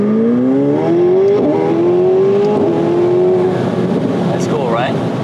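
An Aston Martin Vanquish or McLaren 750S accelerates hard, its engine note climbing steadily through the gears with a loud, close roar, brief shift dips, and people talking over it.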